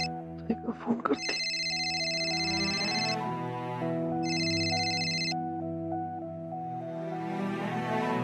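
A phone ringtone plays a repeating melodic tune in two bursts, fairly close and clear, following a few soft taps at the start, with a voice speaking briefly.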